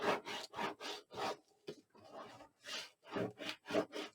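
Paper burnished onto chipboard spacers for a handmade accordion mini album, with a series of soft, rhythmic rubbing strokes, each lasting about a third of a second, close and fairly quiet with short pauses between them.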